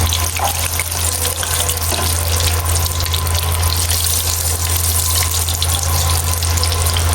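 Manioc chips fry in hot oil, giving a dense, continuous sizzling hiss that stays loud and steady from start to finish.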